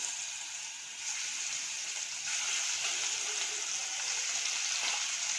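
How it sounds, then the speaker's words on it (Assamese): Chicken pieces fry in oil in a kadai with a steady, close hissing sizzle that grows slightly louder partway through and continues without pause. "তাত মই চিকেনখিনি অকণমান ভাজি ল'ম, বেছি নহয়, এনেই অলপ ভাজি ল'ম আৰু ৰঙচুৱা হোৱাকৈ।"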